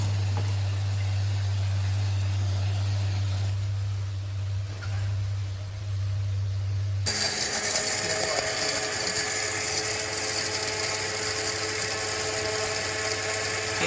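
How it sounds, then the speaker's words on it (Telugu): Electric mixer grinder grinding deep-fried garam masala spices for homemade chicken pickle, a steady motor hum that suddenly rises into a loud, harsh whirring grind and holds continuously. "ఇప్పుడు మిక్సీ పడుతుంది."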